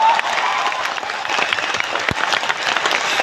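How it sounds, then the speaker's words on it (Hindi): Loud, dense applause from an audience filling Bapu auditorium, steady clapping throughout with a single sharp thump near the middle. "के लिए जोरदार तालियां बजनी चाहिए।"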